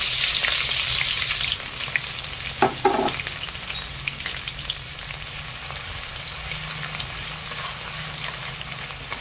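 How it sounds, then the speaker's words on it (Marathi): Garlic fries in oil on low heat for poha chivda, a steady close crackling sizzle with a few sharp utensil scrapes and stirring knocks, and no talking. "आता आपल्याला लसूण तळून घ्यायचं आहे कमी गॅस ठेवायचा"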